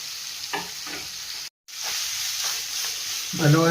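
Ground spice paste being stirred into hot oil in a pan for a drumstick curry, with a close, steady sizzle and scraping broken by a brief dropout; a voice starts briefly at the end.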